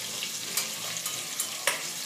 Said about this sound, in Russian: тунца надо жарить на медленном огне